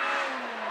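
Rally car launching hard onto a tarmac stage at the Quit Forest Rally, engine revving high and rising as it pulls away, fairly distant and brief, with no one talking.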